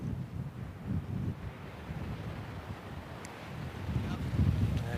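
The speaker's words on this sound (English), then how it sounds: "Burkle, can you recall a day so windy in college golf?" Strong wind gusts buffet the microphone on an open golf course during a college golf championship round, a steady low roar rising in a heavier rush near the end, with no talking.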